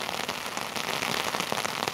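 Heavy rain pours steadily onto a main city street in Norwich, Connecticut, a dense continuous hiss with close pattering drops and no voices.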